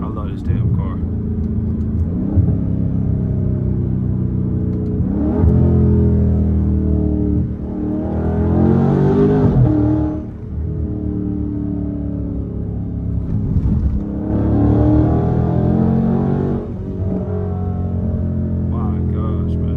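A loud, deep exhaust drone from a straight-piped Dodge Scat Pack rumbles steadily on a highway, rising and falling as the car accelerates and shifts, close and unbroken throughout.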